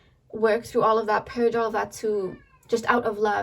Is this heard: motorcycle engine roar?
no